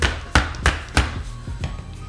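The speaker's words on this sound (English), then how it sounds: "put a little tap with a hammer" A hammer gives a drift car's driveshaft part four or five sharp metallic taps spaced about a third of a second apart, close and loud, with fainter knocks trailing off and no talking.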